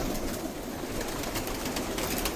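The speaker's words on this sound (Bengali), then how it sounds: "দেখেন কি সুন্দর কবুতর" Many pigeons coo together in a large loft in Saudi Arabia, a dense, steady murmur of overlapping calls that stays close and continuous with no talking.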